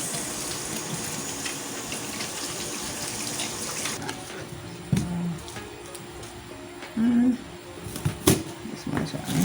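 Tap water runs steadily as onions are washed, a continuous rushing hiss with brief clinks and a few spoken words.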